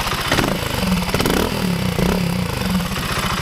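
A BSA 650 motorcycle engine runs during a test ride at a side-car workshop, a loud, close, rough rhythmic thrum whose pitch rises and falls as the throttle varies.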